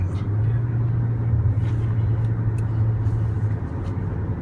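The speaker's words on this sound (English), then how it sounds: "Some serious traffic around here" Heavy evening rush-hour traffic in Dubai, heard as a continuous low rumble of car and bus engines from inside a vehicle, steady and loud throughout, with a faint voice in the background.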